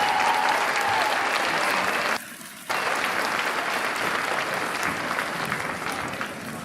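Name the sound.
audience applause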